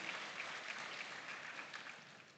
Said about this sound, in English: Please, a round of applause for them once again.